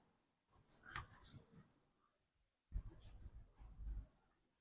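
Marker or chalk writing on a board during a math lesson, two bursts of scratchy, squeaky strokes separated by a short pause, close and fairly faint, with no voices.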